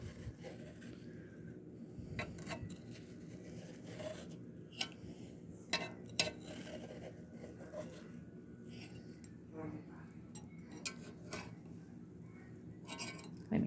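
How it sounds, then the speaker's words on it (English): A knife cuts through cornbread in a baking pan, making quiet intermittent scraping and rasping strokes with occasional light clinks against the pan, close and soft, with a voice murmuring faintly underneath. "I'm just going to go ahead and cut this cornbread like I would."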